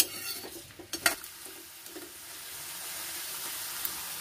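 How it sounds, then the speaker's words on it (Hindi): Raw banana curry frying in a pan hisses with a soft, steady sizzle while a spoon scrapes and taps through it in a few quick strokes, fairly quiet and close. "इसको लगातार चलाते रहना है।"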